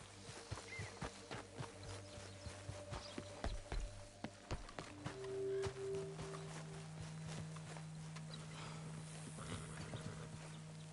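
Horse hooves clip-clop at an uneven walking pace in Red Dead Redemption 2, fairly close, layered over steady sustained game music tones with no one talking.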